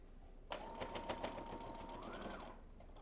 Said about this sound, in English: I'm going to edge stitch as close as I can